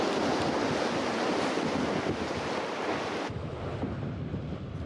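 Ocean waves wash steadily against a rocky island off Finland in summer, a loud continuous roar of surf with wind buffeting the microphone, easing slightly after a few seconds.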